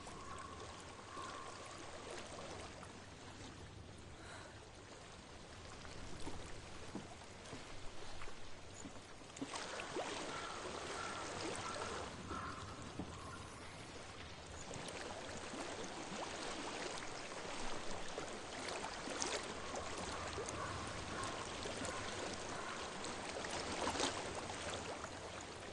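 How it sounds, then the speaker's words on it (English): A stream flows steadily in Hellblade: Senua's Sacrifice, a continuous soft rushing and trickling of water with faint wind and ambience, heard alone without talk. "I hear water. Go to it."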